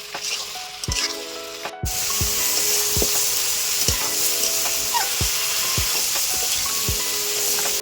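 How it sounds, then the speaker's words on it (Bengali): Spice paste sizzles steadily in a pan with Malabar spinach stems while a utensil scrapes and stirs in repeated rhythmic strokes, close and fairly loud, with no talk. "এবার আমি মশলাটাকে সবজির সাথে ভালোভাবে আরও বেশ মিনিট পাঁচ সাত ধরে ভালোভাবে কষিয়ে নেব"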